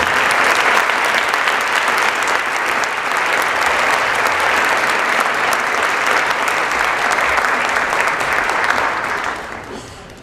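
An audience applauds steadily for about nine seconds to welcome new National Honor Society members at a school induction ceremony, a dense, loud clapping that fades out at the end.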